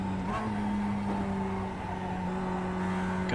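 A Mazda MX-5 Cup race car in an iRacing sim race at Tsukuba Circuit holds a steady, loud engine drone on throttle, with a faint tire squeal near the end.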